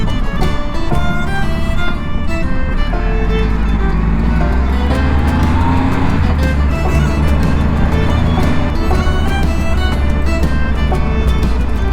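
A motorcycle rides along a road in Scotland, its engine note climbing and shifting in pitch with rushing wind, loud and close throughout. The rider's voice is partly audible under the engine.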